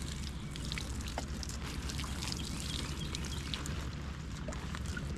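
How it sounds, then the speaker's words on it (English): Water spraying and pattering over plants in a raised-bed vegetable garden with melon vines, a steady close hiss of falling water with light dripping, no talking. "So I need to really water everything"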